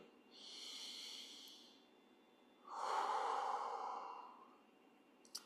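A slow, deep breath out during foam roller therapy for hip mobility: two long airy exhales, close and soft, the second fuller and rougher, with no talk.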